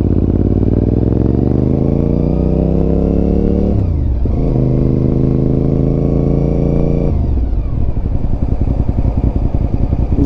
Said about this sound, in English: The sound of it idling is just intoxicating.